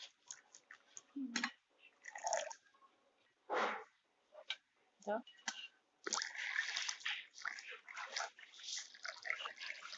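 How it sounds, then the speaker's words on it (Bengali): Hot milk, a full kilogram heated for a caramel pudding, splashes and pours into a bowl in bursts, the sloshing louder and steadier toward the end with kitchen clatter between. "এবার দিয়ে দিচ্ছি দুধ"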